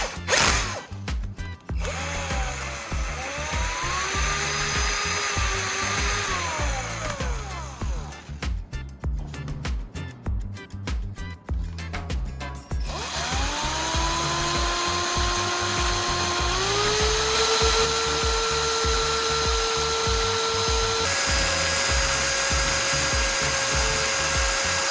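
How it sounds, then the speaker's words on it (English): An electric drill stirs a headlight restoration mixture, giving a steady whirring motor whine that rises and steps up in pitch as the speed changes, broken early on by rattling, grinding bursts from the mixing. "Now, I'll attach it to a drill and start mixing."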